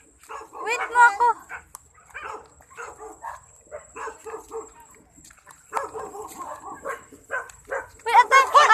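A dog barks in short bursts at close range at a house after Typhoon Ulysses, mixed in with people talking over it.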